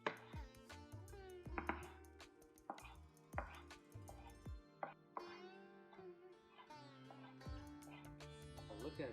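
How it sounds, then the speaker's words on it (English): A knife cuts tomatoes into thin slices on a cutting board, making a quick run of close, crisp chops that pause now and then, with faint background music. "I like to slice the tomatoes into thin slices."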